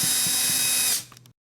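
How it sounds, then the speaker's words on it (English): Power driver whirring steadily as it backs out Torx head screws from a small unit, then winding down and stopping with a couple of faint clicks, close and alone. "So first step is to get these Torx head screws out."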